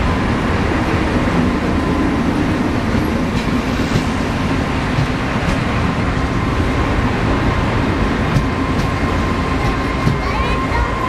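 A passenger train arrives at a station platform, a loud continuous rumble and rattling of wheels on rails filling the whole stretch, with faint squeals and clicks over it.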